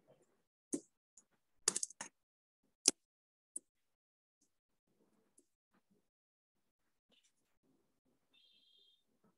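A computer keyboard being typed on: a few scattered clicks, then a short burst of quick keystrokes and some isolated taps, all faint and close, separated by long silent gaps.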